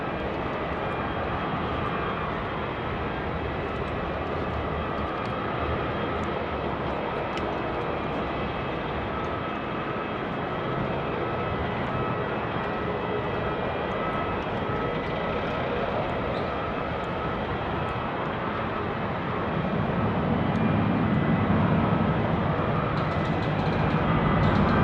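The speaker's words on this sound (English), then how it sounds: "Jetstar 527, runway 16 right, clear for takeoff" A Jetstar jet takes off from runway 16 right at Sydney Airport at night, a broad, distant engine roar holding steady throughout and swelling louder near the end.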